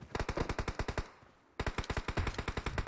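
Rapid automatic gunfire in the PUBG Mobile battle royale game, two loud sustained bursts of evenly spaced shots separated by a short pause, with no talk.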